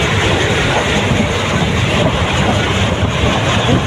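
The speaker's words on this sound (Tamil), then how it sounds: "ட்ரெயின் சரியான ஸ்பீடுங்க" A train running at speed between Nagapattinam and Karaikal, a loud continuous roar with rattling wheels and rushing air, close and steady.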